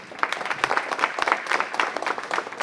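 Scattered audience applause at a city council meeting, a modest round of claps heard from a distance, fairly faint and brief.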